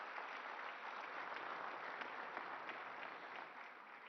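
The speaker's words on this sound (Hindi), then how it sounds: "आपकी तालियों के साथ" Steady, even applause from a large audience at an investors summit with the Prime Minister present, a continuous dense wash of clapping heard from a distance, quiet and unbroken, without voices.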